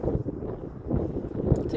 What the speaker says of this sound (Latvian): te augšā tāds vējiņš ir